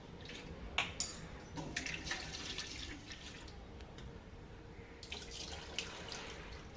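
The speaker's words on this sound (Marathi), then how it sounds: "आता जरासं डब्बा धुवून घेते" Water runs and splashes inside a tin container, with scattered clinks and drips as it is swirled and rinsed, fairly close and steady.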